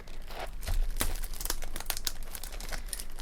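Plastic Yu-Gi-Oh booster pack wrapper from the Legendary Duelists: Magical Hero set being opened, crinkling and tearing in close, steady bursts with a few sharper rips, no talk.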